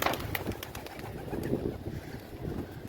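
Pigeons cooing softly at a distance in Lahore amid faint outdoor background noise, brief and low in level.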